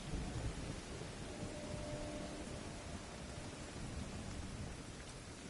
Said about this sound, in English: Let me get out of the rain for a minute